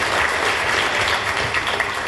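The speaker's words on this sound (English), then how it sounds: "So give a round of applause for our guests on the panel today." An audience applauds guests at a start-up growth panel event, a steady wash of clapping from many hands throughout.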